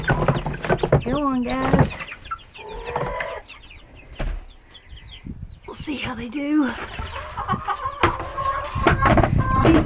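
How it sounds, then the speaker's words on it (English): Laying hens brought out from a laying house cluck and squawk in a busy, overlapping chorus close by, with brief bursts of louder calls and a person speaking among them. "These hens that are in here from the laying house are pretty mild mannered."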